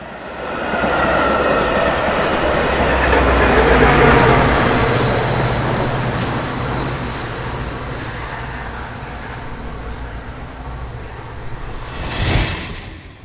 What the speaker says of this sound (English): An eastbound express flies through town with two F-40s providing the power.